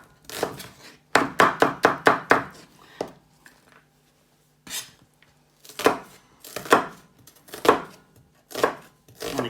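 A knife roughly chops onions on a board in two bursts of quick, sharp, close thuds separated by a short pause, with almost no talk.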